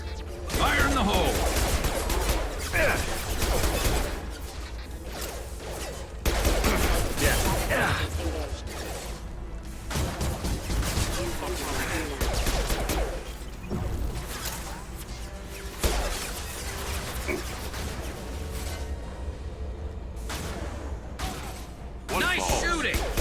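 Dense Mass Effect 2 firefight with continuous bursts of gunfire, crashes and whooshes filling the whole stretch, loud and busy, with voices speaking over the combat.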